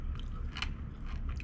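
Someone chews a mouthful of rehydrated dehydrated-meal cabbage up close, with soft crunches and a sharper bite partway through.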